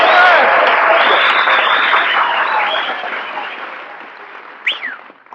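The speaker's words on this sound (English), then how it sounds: "did you hear that ovation, Mary? Applause, cheers, whistles." A studio audience gives an ovation with dense applause, cheering and whistles, loud and sustained at first and then gradually dying away, with a short sharp whistle near the end.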